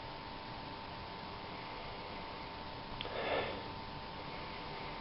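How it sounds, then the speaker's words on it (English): Someone sniffs a glass of Sierra Nevada stout beer, a single short nasal inhale, close and soft over a constant background hiss, with no talking. "let's give it a sniff"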